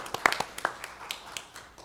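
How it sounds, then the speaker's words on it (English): An audience at a county administrator public interview session clapping briefly, a short scatter of sharp, fairly close claps that fades within two seconds. "You don't have to clap for them again"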